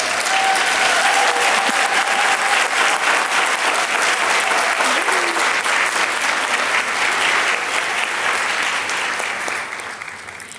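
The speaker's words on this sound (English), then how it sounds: "Can we please honor our winners with one more round of applause?" Sustained audience applause for award winners at a Counselor of the Year recognition ceremony, a steady dense clapping that continues loudly for about ten seconds before beginning to thin and fade at the end.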